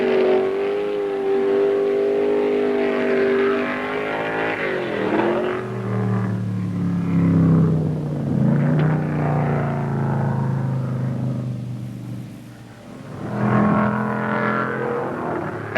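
Stock car engines on the gravel Pikes Peak hillclimb road, loud and close, revving and changing pitch through gear shifts over a sustained drone, with a brief lull near the end before the engine roars again.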